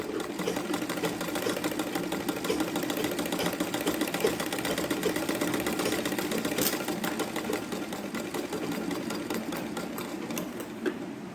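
A sewing machine stitching square pleats on a sleeve runs in one steady, unbroken mechanical whir with fast rhythmic needle clatter, close and even throughout, with no speech.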